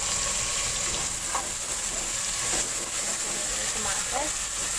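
Tomatoes added to a sizzling pot for bhindi gosht, a dhaba-style okra and meat curry: steady, close frying sizzle with hissing steam and a few soft stirring clicks, continuous and even throughout.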